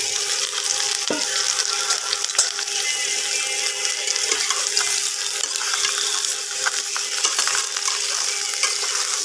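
Mango pieces for a Bengali mango pickle drop into hot oil and fry with a continuous bright hiss that holds steady and loud throughout, with no voices.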